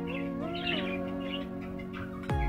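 Budgerigars chirp and warble in a colony cage, several overlapping tweets and trills close by, with a brief sharp sound near the end.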